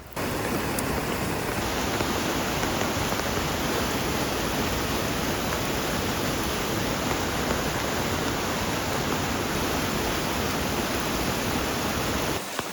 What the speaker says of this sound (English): down here, you can hear the waterfall.